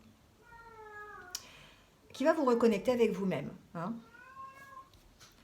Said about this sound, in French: les miaulements que vous entendez, c'est mon chat qui fait ses chaleurs